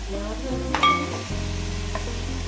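Washed mutton goes into a hot pan for a home-style mutton curry, giving a steady, close sizzle with a brief metallic clink and scrape near the start.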